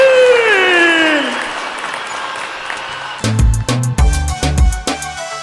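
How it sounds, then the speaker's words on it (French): Audience applause at a televised children's talent show grand final, a loud sustained crowd clapping that fades to a softer patter before sharp, close percussive hits break in. "Merci d'applaudir la petite Céline de Béjerville."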